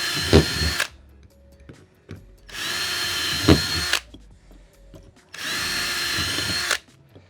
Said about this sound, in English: We got our 3 holes drilled, and that's gonna line up there.